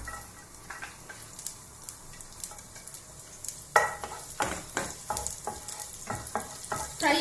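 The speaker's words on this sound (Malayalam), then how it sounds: "ആദ്യം നമ്മൾ ഗാർലിക് ഇടുന്നു." Garlic sizzles in a hot pan for vegetable fried rice, a steady frying hiss broken by scraping and clinking of a spatula stirring against the pan, close and fairly loud.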